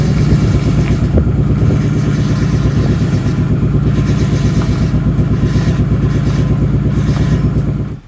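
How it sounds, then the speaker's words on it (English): The engine bay of a Nissan Pulsar GTiR carries a loud, continuous rough drone with a gritty clattering whine from the power steering, steady for about eight seconds before cutting off abruptly, with no voices. "power steering came back on when I filled it up, but then it made this horrendous noise"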